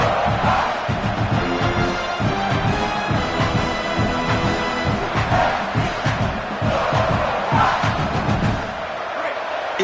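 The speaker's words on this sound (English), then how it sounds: "this crowd is fired up. Listen to this noise here." A large stadium crowd in a college football video game roars and cheers continuously, a dense, loud wall of voices with swelling shouts throughout.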